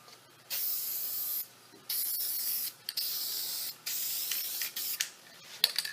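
Spray adhesive hisses onto the padding of a vinyl chair seat for an antique oak chair, in about five steady bursts of a second or so each, separated by short pauses, close and fairly loud.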